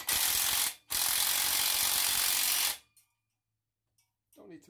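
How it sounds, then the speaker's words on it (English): A ratchet tightens the exhaust clamps on a Honda CB750 fitted with a Delkevic 4-into-1 pipe, giving two loud, close bursts of rapid clicking separated by a short pause, then near silence with faint small knocks. "I'm going to tighten these so I don't keep knocking them off"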